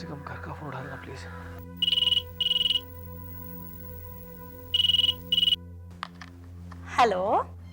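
A home telephone rings in two short double bursts of electronic trilling, fairly loud, over a steady background hum and music bed, with a brief rising tone near the end.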